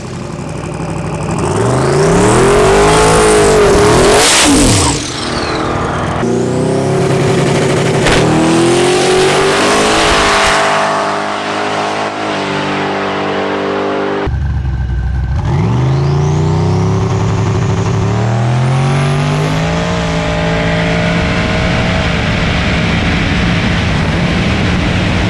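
Drag race car on a hot lap pass at Rocky Mountain Race Week, a loud engine blasting through rapid rising revs and shifts, fading and then swelling again, with a sharp pitch sweep as it roars past.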